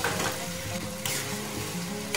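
Chicken fries with masala in a pan, giving a loud, dense sizzle and crackle with brief stirring, alone without talk.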